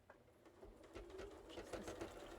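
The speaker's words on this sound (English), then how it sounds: "that's just the machine getting through them" A sewing machine pushes through many quilt layers at a pointed seam, a quiet, even stitching whir with a faint rhythmic clatter, heard up close inside a school bus.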